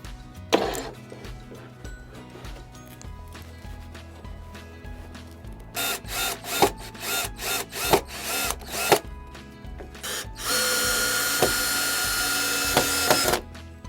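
A power drill drives in short repeated bursts while plywood is secured to an existing headboard, followed by a longer sustained whir, with knocks and clatter of wood between runs.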